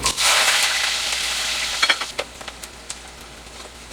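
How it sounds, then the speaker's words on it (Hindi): Roughly chopped onion and halved garlic cloves hit hot oil for mutton mandi with a sudden loud sizzle that settles into a steady hiss, with a few sharp spoon clinks against the pan. "प्याज को हम ब्राउन नहीं करेंगे, सिर्फ इसका कलर चेंज होने तक हम इसे फ्राई करेंगे।"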